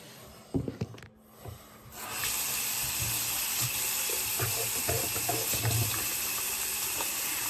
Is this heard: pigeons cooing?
no